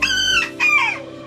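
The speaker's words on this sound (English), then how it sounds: "Did it just crow?" A baby chick attempts a crow in two short, high, wavering calls separated by a brief pause, close and clear with a steady low hum in the background.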